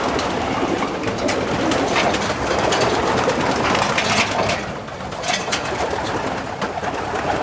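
Racing pigeons in a one-loft race loft coo and rustle steadily as a dense, continuous flock murmur, close and fairly loud throughout.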